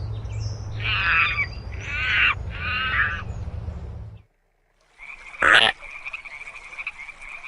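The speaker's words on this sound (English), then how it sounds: "The frog." A frog croaks in three rasping bursts, each lasting about a second, then falls silent. One sharp, loud call follows, with a faint sustained tone running beneath it. No voices are heard.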